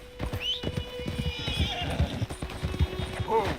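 Horse galloping in the video game Red Dead Redemption 2, with rhythmic clip-clopping hooves, snorts and a whinny, under a rider's urging voice and steady background sound.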